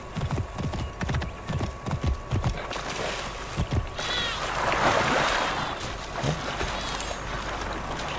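Hooves of a rider's horse in Assassin's Creed Origins clop in a quick, regular rhythm, close and distinct at first, then fade into a broad wash of ambient noise.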